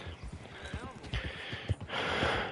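Horse hooves clip-clop in a quick rhythmic gait in Red Dead Redemption 2, with snorts and wind noise mixed in; the steps sound close and moderately loud.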